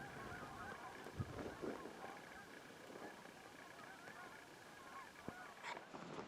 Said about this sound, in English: you can probably hear the geese in the background